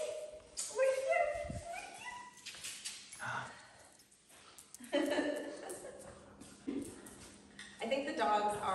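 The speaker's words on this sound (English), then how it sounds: "I think the dogs are pumped." Excited dogs whimper and yip in short, high bursts scattered between stretches of people talking nearby indoors in a new house.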